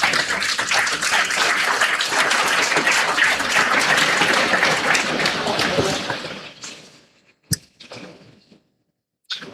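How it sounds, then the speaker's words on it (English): An audience at an international conference breaks into a full round of applause that holds strongly for about six seconds, then fades into a few scattered, isolated claps before stopping. "with a huge round of applause, please."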